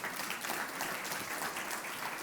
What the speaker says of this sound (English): Round of applause for them, please.